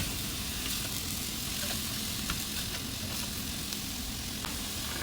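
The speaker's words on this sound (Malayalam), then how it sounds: "അതിലേക്ക് നമ്മൾ സവാള ഇട്ട് ഇനി ഈ സവാള നല്ലോണം വഴണ്ടി വരണം" Onions sauté in hot oil with ginger and garlic in a pan, a steady soft sizzle and hiss with faint small pops, heard close and even throughout with no voice.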